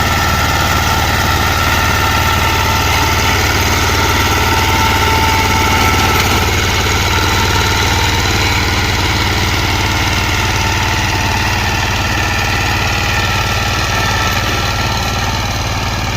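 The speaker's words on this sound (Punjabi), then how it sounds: "ਇਹ ਵੀ ਮਸ਼ੀਨ ਜਿਹੜੀ ਹੈ ਨਾ ਉਹ ਹੈ BCS। ਇਹ ਮਸ਼ੀਨ ਦਾ ਸਾਈਜ਼ ਹੀ ਥੋੜੀ ਛੋਟੀ ਹੈ।" A small BCS wheat harvesting machine run on a motorcycle-type engine drones loudly and steadily at close range, a continuous vibrating engine rumble that never lets up.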